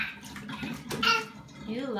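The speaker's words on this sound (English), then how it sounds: "Are you taking a bath or letting the water out?" Bathwater splashes and sloshes in a home bathtub close by as the tub drains, with a young child babbling and an adult talking over the water.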